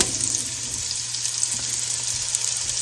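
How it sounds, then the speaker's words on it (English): Chopped onion sizzling in hot rendered bacon fat in a pan while cooking loaded potato soup, a steady close crackling hiss with no talking. "Now I'm going to add my onion to this."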